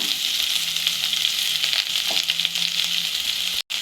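Capsicum sizzles in hot oil with soya chunks in a pan, a steady loud close frying hiss with light stirring scrapes, cut off by a brief gap near the end.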